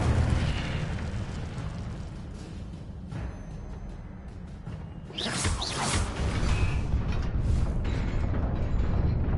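A fire spell blast in the video game Hogwarts Legacy: a loud whooshing burst of flame over a steady rumbling game soundscape, with a second flaring surge midway.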